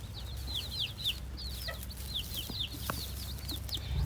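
Chickens and a rooster cluck and chirp in quick, repeated high calls against a steady outdoor hum, fairly faint and somewhat distant.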